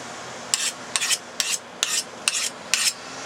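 A diamond card rasps along the edge of a steel cabinet scraper to remove the burr, six short gritty scraping strokes in a steady rhythm, close and crisp with no talking.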